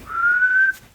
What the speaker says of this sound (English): It's when you put your lips together and blow.